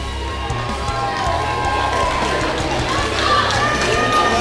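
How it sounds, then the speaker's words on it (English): A college football stadium crowd roars in the last seconds of an Everett Red Raiders versus Eastside Bulldogs game, a steady wall of cheering and noise with a commentator's voice running over it. "this crowd has gone electric"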